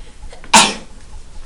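A single sharp sneeze bursts out loud and close amid a quiet room during a math lesson, with faint background hum before and after.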